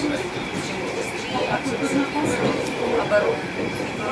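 A train rumbles steadily along the rails, a low continuous roar with faint rhythmic clatter and occasional metallic squeaks.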